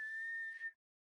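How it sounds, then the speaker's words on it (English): A person whistles one steady, sustained note close to the microphone for under a second, then it stops abruptly into silence. "You know what that's going to sound great is you whistling into the microphone."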